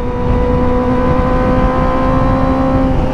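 A Kawasaki ZX25R motorcycle engine with stock exhaust idles loudly and steadily nearby, a constant droning rumble with a tonal whine, unbroken throughout.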